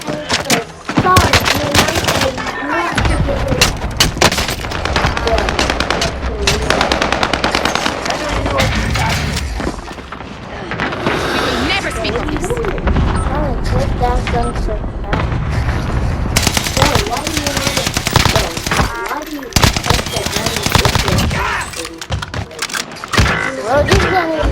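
Gunfire in the Call of Duty Warzone video game: dense, loud bursts of automatic fire and single shots nearly nonstop, with explosions and game effects, and players talking over the action.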